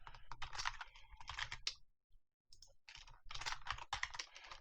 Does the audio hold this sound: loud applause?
no